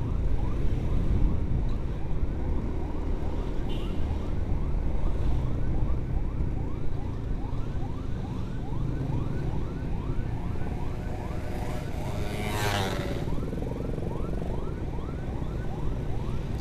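A wailing ambulance siren sweeps up and down repeatedly amid steady street traffic noise, with a brief louder whine passing midway.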